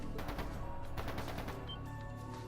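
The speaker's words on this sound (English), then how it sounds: "That sounded like gunfire." Rapid bursts of gunfire from the video game Trails of Cold Steel 2, loud and clustered in quick volleys over a low background hum, with no talking.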